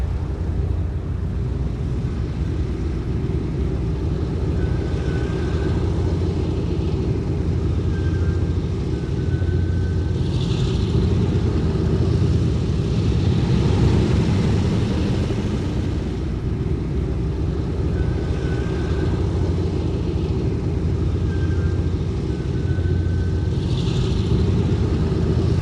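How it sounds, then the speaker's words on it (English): Four-engine A2A B-17 bomber taxiing on the ground in the FSX flight simulator, a steady loud engine rumble holding evenly throughout with faint tonal whine overhead, no voices. "as we're taxiing back to our parking positions"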